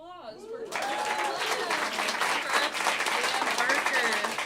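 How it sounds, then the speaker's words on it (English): Audience applause at the close of a Freedom From Religion Foundation solstice celebration, a sustained, dense wash of clapping that swells in after a brief spoken line and holds steady to the end. "One more huge round of applause for Dan"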